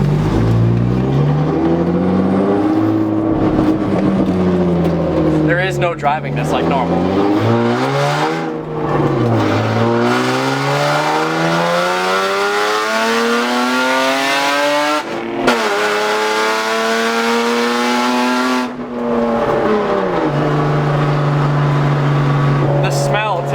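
A straight-piped BMW roars through a suburban street, its exhaust revving loudly in long rising and falling sweeps with sharp crackles, very close and dominant, while someone talks over it.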